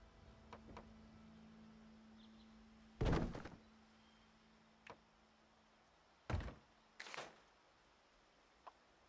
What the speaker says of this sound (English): I add a doorway wall on top and place a door inside it